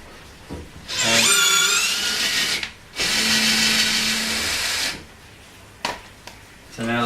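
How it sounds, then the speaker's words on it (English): A power drill driving a tap to cut a thread in metal whirs in two sustained runs, loud and close, its pitch rising as it spins up, followed by a few short clicks and taps. "so now the hole is drilled and tapped"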